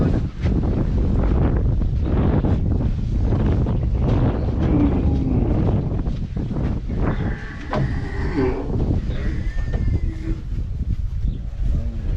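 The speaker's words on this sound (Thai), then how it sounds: "พัดดีบรรยากาศดีนะครับ ลมพัดตลอด" Wind blows steadily across a cattle farm where bulls are fattened on concentrate feed and straw, a continuous loud buffeting rush against the microphone with no break for the whole stretch.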